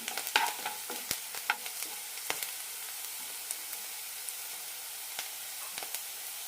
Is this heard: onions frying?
yes